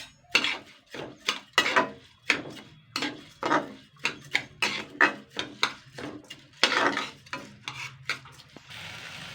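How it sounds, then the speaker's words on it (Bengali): Gobindobhog rice is stirred in a pan over a low flame, giving a series of close, dry scraping strokes about one or two per second, each a gritty rasp of grains against the pan with short pauses between. "চালটা দিয়ে আমি কিন্তু জাস্ট 3 থেকে 4 মিনিট একটুখানি হালকা নেড়ে চেড়ে নেবো"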